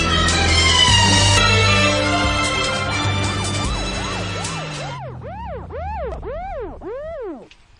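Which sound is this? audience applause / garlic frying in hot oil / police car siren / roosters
police car siren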